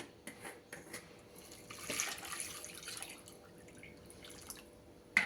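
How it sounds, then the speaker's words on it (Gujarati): Cold water is poured onto freshly hand-churned butter, trickling and dripping in a thin stream, quiet and close, with a few sharper splashes and clinks breaking the steady pour. "ઠંડુ પાણી નાખીશ."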